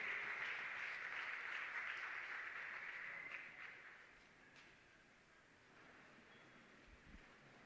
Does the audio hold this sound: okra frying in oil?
no